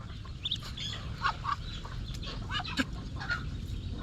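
Scattered bright quacks and squawks of ducks, fairly quiet, over a steady low background rumble, with no voices.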